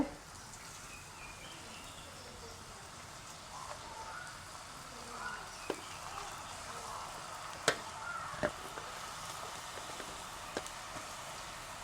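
A homemade children's snack frying in boiling oil, a steady soft sizzle and bubbling with a few sharp crackles and pops scattered through it.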